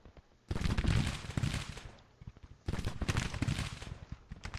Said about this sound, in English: Let's have these cannons keep firing over here, boys.